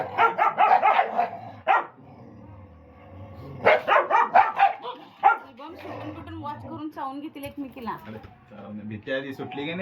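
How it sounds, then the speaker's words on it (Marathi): A pet dog barks in quick bursts of several yaps, then again after a pause, close by, while people talk in the background. "हे कळ काढल्यावर ह्याला भुकाल्या"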